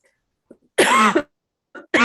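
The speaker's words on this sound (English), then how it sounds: "Coughing happens, can't do anything about it." A single person coughs twice in a quiet indoor room, a faint short throat sound first, then one harsh burst followed by a second cough moments later, close to the microphone with silence between.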